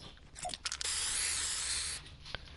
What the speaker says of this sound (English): I spray painted the chest.